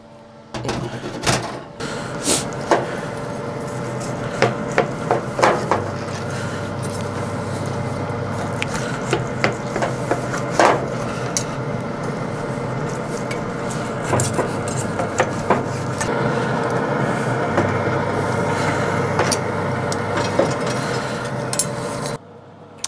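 Grilled lamb sliced on a board beside a Louisiana Grills LG800 pellet grill, with scattered knife taps and clicks over a steady low hum of the grill for about twenty seconds.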